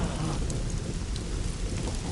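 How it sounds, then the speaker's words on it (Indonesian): Heavy rain pours late at night, a dense, steady roar of drops hitting surfaces close by, loud and continuous with no voices over it. "Dan hujannya juga lebat sekali."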